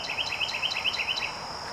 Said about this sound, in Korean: 어우, 새소리.